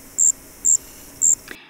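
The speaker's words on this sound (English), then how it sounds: "These small black or dark brown insects are difficult to tell apart visually, but their loud musical trills vary considerably in rate and quality." A striped ground cricket trills in short, even high-pitched bursts, three pulses in a row, clear and close against a soft background hiss.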